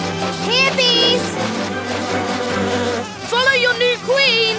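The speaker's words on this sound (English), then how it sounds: "We have to get the bees out of town." Cartoon bees buzz loudly and continuously, the droning whine swooping up and down in pitch in close, overlapping waves over a background music bed.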